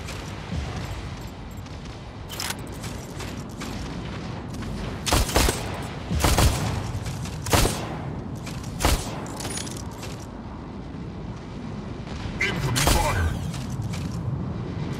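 Incoming gunfire in a battle arena video game against Arachnos: a constant loud roar of game audio with repeated sharp shot bursts and booms spread through it.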